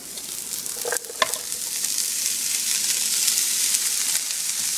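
Meat dropped into a pan of sizzling onions and garlic, with a brief clatter near the start before a steady, loud frying hiss swells and holds close by.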